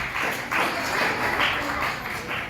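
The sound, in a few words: loud applause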